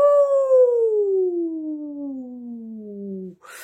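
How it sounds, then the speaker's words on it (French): A long, loud dog howl with a steady tone that slowly falls in pitch over several seconds, ending abruptly. "C'est mon chien"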